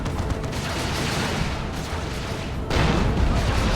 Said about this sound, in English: The Demolisher Cannon does fire